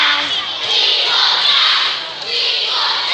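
A large audience at a DanTDM live tour show roars and cheers continuously, a dense wash of excited, mostly young voices screaming together, loud and sustained throughout.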